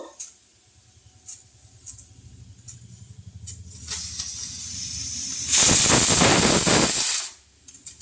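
A pressure cooker cooking rice lets out a hissing burst of steam, building from faint puffs into a loud, sustained rush for about two seconds before it stops abruptly, over a low background hum.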